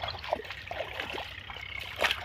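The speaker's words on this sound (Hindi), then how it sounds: "बोरनु पानी चालू है।" Water from a borewell flows steadily through irrigation channels into a mustard field, a soft, continuous trickle and gurgle heard outdoors at a low, even level.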